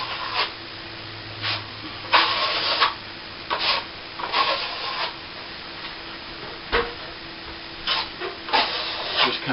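A steel trowel polishes fresh plaster over a plasterboard ceiling repair, with repeated short rasping strokes in an uneven rhythm and quiet pauses between them.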